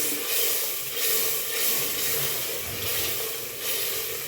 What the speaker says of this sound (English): I'm going to give it a good mix.